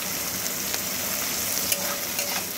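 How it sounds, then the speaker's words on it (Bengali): Vegetables with carrot and onion greens fry in a pan, giving a steady, close, crackling sizzle with occasional soft stirring taps and no voices. "নিয়ে এর সঙ্গে পুরো একসঙ্গে খুব ভালো করে একটু ভাজা করে নেব।"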